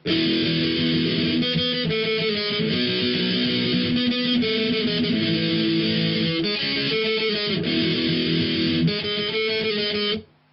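Distorted electric guitar plays a pre-verse in steady, driving chord and note patterns. The tone is loud and continuous with no talk, and it cuts off at the end.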